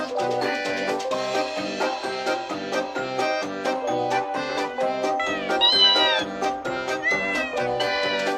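A Sphynx cat meows again and again in an exchange with a talking cactus toy that repeats the sounds back, giving loud, overlapping, pitched calls in a busy back-and-forth rhythm.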